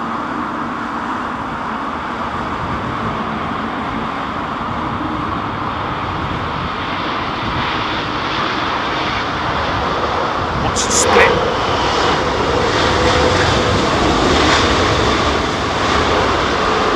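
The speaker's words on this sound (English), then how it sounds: "listen to that GE90 whirring away" A GE90 jet engine whirs steadily through an idle run test at an airport during a storm, a constant broad roar with wind noise and no distinct peaks, holding the same level throughout.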